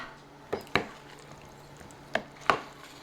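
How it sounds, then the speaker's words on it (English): Grape and pineapple salad stirred with a spoon in a bowl, four sharp close knocks and clacks in two pairs, separated by quiet pauses. "We're going to stir this up"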